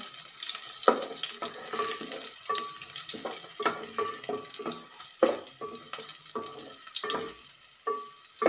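Crushed garlic dropped into hot oil and sautéed in a pan while making a mackerel curry, a soft steady sizzle with scattered clicks and stirring scrapes, close by with no talk.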